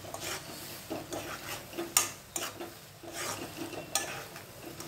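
Chili powder being stirred into a broad bean curry in a pan, with scraping spoon strokes against the metal and occasional sharper clinks at a steady, unhurried rhythm, close and fairly quiet.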